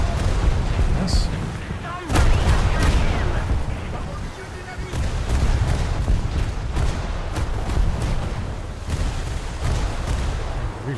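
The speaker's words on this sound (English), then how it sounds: "He's already shooting me this episode" Naval guns fire in a boat combat video game set on the French coast, with heavy booming shots and a steady rumble of engines and battle noise.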